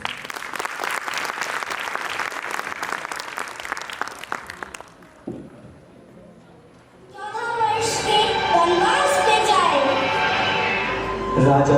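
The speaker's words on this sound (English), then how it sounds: "Let's encourage them with a huge round of applause." An audience at a kindergarten annual function applauds young performers after a Ramayana enactment, with sustained crowd clapping for about five seconds that then dies away before music begins and plays on.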